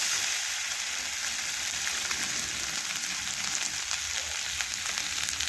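Spice paste of green chilli, ginger, cumin and pepper with chilli powder frying in a pan, a steady dense sizzle, even and close, with faint stirring and no talking.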